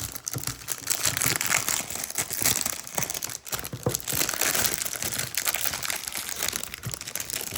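Foil wrapping crinkles and tears as a 1990 Donruss baseball card rack pack is pulled open, a close, busy stream of crumpling and rustling with no talk.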